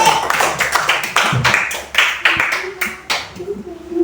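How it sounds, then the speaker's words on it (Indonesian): Children clap in a classroom, a rapid run of sharp hand claps in uneven bursts, with voices speaking alongside. "Kasih tepuk tangan untuk Rizky."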